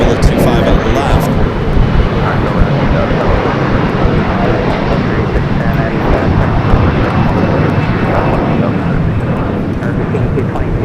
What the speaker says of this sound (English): That's a Delta 767 400 ER coming in from JFK, flight 701.